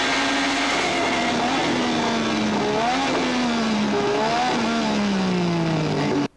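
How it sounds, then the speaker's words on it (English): A 1986 race car's engine drones loudly onboard, its pitch stepping down and back through several gear changes as it slows at the end of a straight, continuous and close without voices. "Downshifting at the end of the straight."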